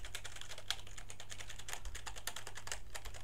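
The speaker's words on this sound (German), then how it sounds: "Und ich drücke andere Tasten mittlerweile." Keys on a computer keyboard pressed in quick, irregular succession, a steady run of light clicks and taps close by with no voices.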